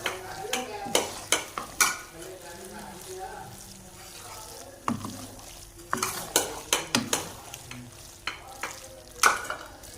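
Macaroni being mixed with sauce in a pan, with repeated sharp scrapes and clacks of a spoon against the pan over a low sizzle, arriving in irregular bursts with pauses between them.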